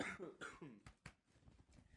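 A person on a podcast gives several quick, close coughs in a short burst, with throat-clearing sounds between them, followed by low background chatter.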